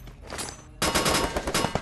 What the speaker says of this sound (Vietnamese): bạn nào vừa nổ súng ở đây vậy hả?